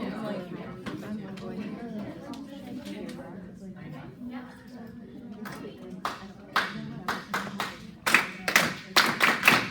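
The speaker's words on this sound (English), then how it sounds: "if you hear any one of us clapping, please go ahead and repeat the beat" Hands clap a rhythmic beat for a group to repeat as an attention getter, sharp close claps arriving in quick patterned bursts toward the end after a stretch of talking.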